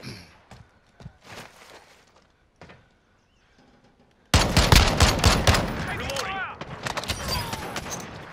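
Machine gun fire in the video game Call of Duty: Modern Warfare (2019), Gunfight mode: a loud, sustained rattling burst breaks out midway after quieter footsteps and scattered clatter, continuing densely to the end, with speech mixed in.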